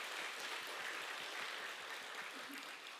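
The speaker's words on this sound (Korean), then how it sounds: "영광의 박수 올려드리겠습니다." Steady, faint applause from a church congregation at an autumn revival service, a continuous patter of many hands clapping at an even level for the whole stretch.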